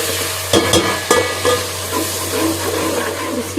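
Three chopped tomatoes sizzle in a pan for chana pulao while being stirred, a close steady frying hiss broken by a few sharp scraping strokes.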